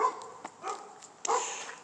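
Dogs bark in a few sharp, separate bursts, with yips and a whimper between them, fairly close and clear, with no voices.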